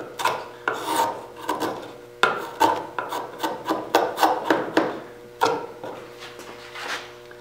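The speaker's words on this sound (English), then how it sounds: "So I'm going to just pare off this as much as I can with my chisel." A chisel pares wood off a burl bowl stand in a series of close, scraping strokes, about a dozen uneven rasps in quick succession.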